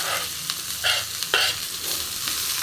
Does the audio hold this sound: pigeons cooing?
no